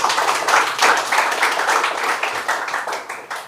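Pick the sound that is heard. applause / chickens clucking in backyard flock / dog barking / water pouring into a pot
applause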